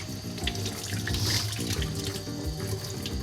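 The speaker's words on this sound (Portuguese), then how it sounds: "a gente vai lavar ela aqui, ó, embaixo da pia, em água corrente" A kitchen sink tap runs steadily while a chili pepper is rinsed under it, giving a close, continuous splashing rush with small clatters.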